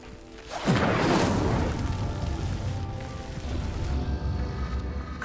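A pyre igniting from the Incendio fire spell in Hogwarts Legacy: a sudden whooshing burst about half a second in, then a sustained roaring crackle of flames that gradually eases, with no talking.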